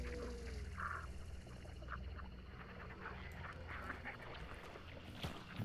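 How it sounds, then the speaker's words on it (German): Ducks quack in the Hunt: Showdown video game, several calls scattered across the clip over a steady, busy outdoor swamp ambience, moderately loud. "das sind Enten"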